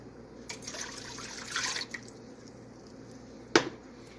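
A cup of water is poured into a soup pot holding chicken broth and chopped potatoes, giving a faint splashing gurgle followed by a sharp clink of the cup near the end.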